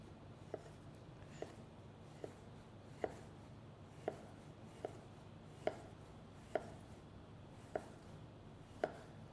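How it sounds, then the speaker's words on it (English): A knife slices canned pear into thin slices on a board for a pear tart, making about a dozen evenly spaced, crisp, close taps through steady low room noise, with no talking. "So now I'm going to slice it into thin slice."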